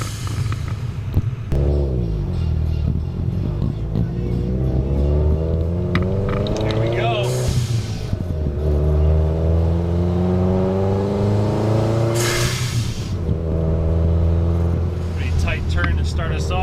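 A Subaru WRX engine pulling hard along mountain canyon roads in the Santa Cruz mountains: a loud, close drone that climbs steadily in pitch, breaks sharply at two gear shifts, then rises again.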